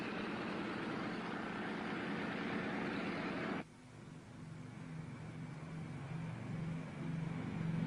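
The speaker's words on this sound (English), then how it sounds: "The DC-3, engines idling, stood by at the end of the runway" Idling DC-3 airplane engines at the end of a runway: a steady, broad droning rumble that drops to a lower, quieter hum partway through and then continues evenly.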